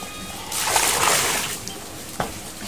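Cattle feed mash stirred in a bucket of water, thick like porridge: a burst of close, loud sloshing and splashing that fades into softer liquid churning, then a single brief slap near the end.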